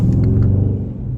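A truck passing close by in city traffic, heard from inside a 2020 Dodge Charger R/T: a loud, steady low engine rumble that fades slightly toward the end.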